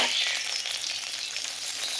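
Green chillies and onions frying in plenty of oil in a wok, a loud, continuous close-up sizzle with light stirring, brief and without speech.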